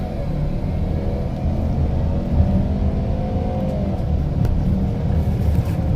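A 2017 Ford Edge pulls away hard from a standstill, its engine giving a steady, loud rumbling drone heard from inside the cabin that holds evenly throughout.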